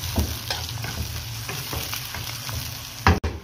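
Onion and garlic fry in hot oil for chicken biryani, a steady crackling sizzle with soft stirring scrapes, close up and fairly quiet, ending in a brief clatter.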